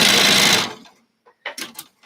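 A sewing machine runs in a loud, steady burst while quilt rows are stitched together, then stops abruptly, leaving soft handling noises and brief rustles of fabric.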